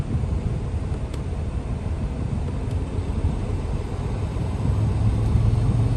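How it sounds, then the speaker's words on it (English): A 2022 Freightliner Cascadia truck engine runs during a regeneration cycle, a steady low diesel rumble that grows slightly louder and higher toward the end. "You see how the RPM is going up?"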